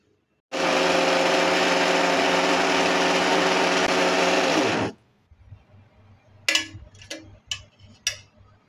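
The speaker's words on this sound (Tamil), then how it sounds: "இப்போ இதை ஃபைன் பவுடராக கிரைண்ட் பண்ணிக்கலாம்." A kitchen mixer grinder pulverizes bread pieces into fine powder, a loud steady whir running about four seconds before winding down, followed by a few scattered clicks and knocks as the jar is handled.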